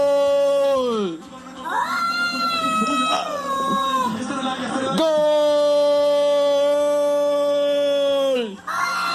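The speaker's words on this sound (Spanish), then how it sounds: "Fíjate lo que dice o lo que mandan desde Colombia con el gato futbolero." A soccer-watching cat in Colombia lets out long, loud, drawn-out yowling meows that rise and fall in pitch, one after another with brief gaps between.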